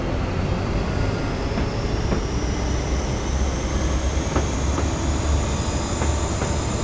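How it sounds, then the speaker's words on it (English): A train running at full power in Train Simulator Classic, a loud continuous rumbling roar of engine and rolling wheels with a faint rising whine and occasional light clicks of track joints, steady and close with no talking. "Okay, let's open her up to max power."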